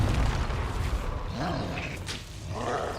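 An explosive Confringo spell from Hogwarts Legacy bursts with a low booming roar, followed by softer whooshing rumbles across a few seconds of game sound, with a voice faintly under it.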